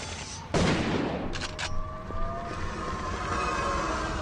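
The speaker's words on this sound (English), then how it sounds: "all the automatic fire was directed at Darcy" Automatic gunfire in the Urban Chaos video game: a sharp loud burst of shots, followed by a couple of quick cracks and a ringing tone over a steady background hum, no talking.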